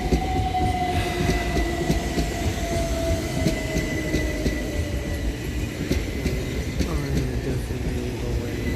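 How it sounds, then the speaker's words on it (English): Two coupled Southern Railway Class 377 electric units roll into Preston Park station on a Littlehampton to London Victoria service, a loud rumbling approach with a motor whine gliding steadily downward as the train slows. "Arriving next into the station is 377418 and 377407, working the 1656 Southern Railway service from Littlehampton to London Victoria."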